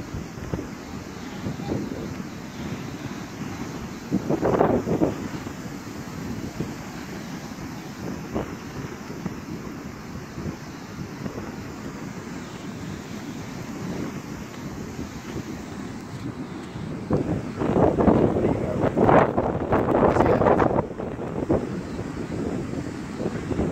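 Strong wind at Buckroe Beach, Virginia, during Hurricane Joaquin buffets the microphone in a constant roar, with louder gusts bursting through now and then over the ongoing rush.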